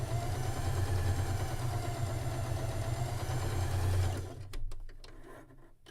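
A sewing machine stitching quilt block pieces, a steady close mechanical whir with a low humming drone that runs continuously and stops abruptly near the end, followed by a few faint clicks.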